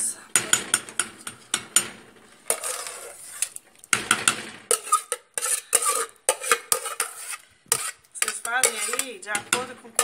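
A spoon clatters and scrapes against a pot as canjiquinha grits are stirred into chicken, with repeated sharp metallic clinks and scraping strokes in irregular bursts, close and fairly loud.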